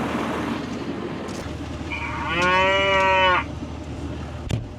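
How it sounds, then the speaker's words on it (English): A hungry cow on a farm lets out one loud, drawn-out moo in the middle, with a quiet outdoor background before and after, and no talking. "Time to chores. Cows are hungry."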